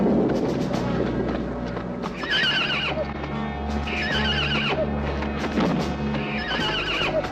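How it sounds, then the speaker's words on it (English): A panicked, bolting horse whinnies repeatedly in loud, shrill neighs over a rumbling, chaotic background, the calls recurring every couple of seconds. "The horse bolts with Noah on it."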